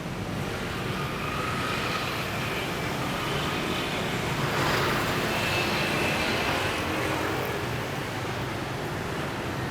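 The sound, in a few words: Jetstar budget airline airplane flying overhead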